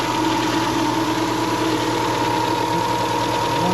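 A 2000 Subaru Outback engine idles steadily at close range after a cold start, a smooth, even rumble with a faint ticking texture that holds constant throughout.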